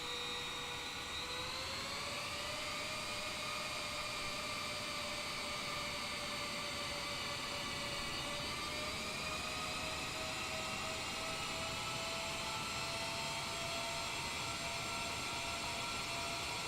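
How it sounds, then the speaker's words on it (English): Boeing 787 jet taxiing in Microsoft Flight Simulator 2020, a steady loud turbine whine with layered tones that rise slightly as thrust builds, then hold constant without speech. "We'll start taxiing."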